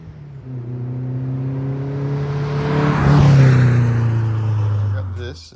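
A car engine revs up from idle, its droning tone climbing to a loud peak before easing back down, heard close by with no other sounds over it.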